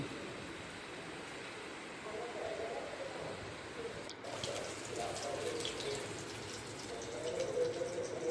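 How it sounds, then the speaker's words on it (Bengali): Steady rain falls throughout a Kalbaisakhi storm during the Bengali month of Boishakh, a dense broadband hiss with scattered drips that swells slightly louder toward the end, with no one speaking. "বৃষ্টি পড়ছে।"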